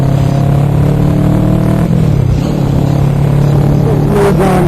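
A twin-cylinder street motorcycle pulls hard along a rainy freeway, its engine note loud and continuous with wind rush, rising briefly near the end.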